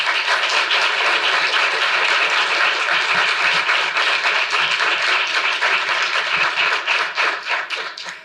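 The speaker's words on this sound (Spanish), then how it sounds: "Así que un fuerte aplauso para Patricia Rodríguez Barrios." Audience applause for a speaker at a sports management conference, a dense steady wash of clapping that holds for about eight seconds and thins slightly near the end, with no voices over it.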